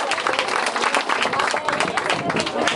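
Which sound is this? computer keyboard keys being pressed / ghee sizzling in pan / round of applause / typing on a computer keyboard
round of applause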